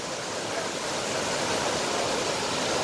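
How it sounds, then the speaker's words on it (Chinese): Qinglong Waterfall at Shanlinxi, running at full flow, makes a dense, steady roar of falling water, loud and unbroken, with no voices. "现在瀑布的水量非常多"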